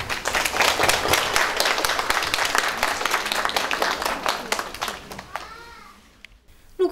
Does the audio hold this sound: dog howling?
no